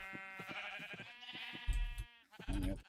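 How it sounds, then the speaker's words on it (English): Sheep in Minecraft bleat in quick succession, several short wavering cries close together, with low thumping game sounds under the last two. "Now to freak out all the sheep in the world."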